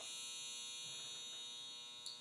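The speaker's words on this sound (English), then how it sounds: "I did not know that the dryer was going." A clothes dryer runs nearby with a steady, faint electric hum and buzz that continues alone until a brief clunk at the end.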